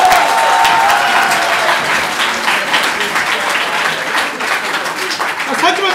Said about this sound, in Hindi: तालियां बजानी है साथ में